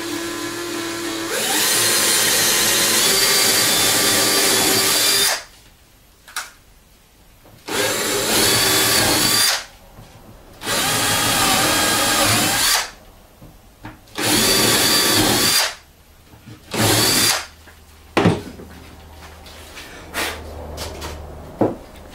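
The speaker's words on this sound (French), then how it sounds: "Bien, je vais percer, je vais mettre une cale martyre. Je vais percer tout ça." A power drill bores holes through workshop parts backed by a sacrificial block. Repeated loud whirring bursts of a few seconds each are separated by short pauses, and the final ones are shorter and fainter.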